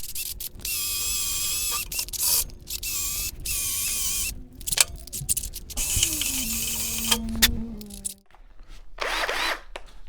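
Cordless drill fitted with a cleaning brush attachment for car detailing whirs steadily and up close, changing speed and pitch before stopping abruptly near the end, with no talking.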